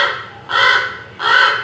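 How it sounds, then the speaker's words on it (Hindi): A crow caws twice, harsh and loud, each call drawn out with a short gap between, close by and alone. "बच्चों यह आपने सुना कौवे की आवाज।"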